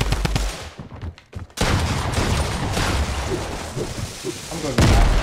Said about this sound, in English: Oh no, I'm getting shot by two different people.